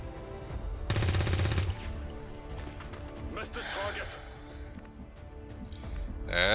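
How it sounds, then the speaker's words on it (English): A single dense burst of gunfire rips out in XCOM 2 as a stun lancer is shot, followed by game sound effects with speech throughout. "Shoot the damn stun lancer."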